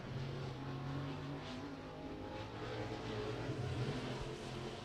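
A race car runs a qualifying lap at Beckley Motor Speedway, a steady engine drone heard faintly from a distance, rising and falling slightly as it circles the track.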